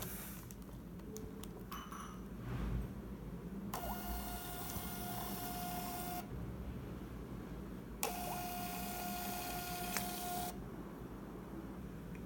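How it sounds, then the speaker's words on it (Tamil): A Bluetooth thermal printer prints tickets in two steady bursts of whirring, each about two to three seconds long, close by and fairly loud, with faint clicks and a low background hum between them. "இப்போ நான் என்ன பண்ண போகிறேன்னா பிரிண்ட் கொடுக்க போகிறேன்"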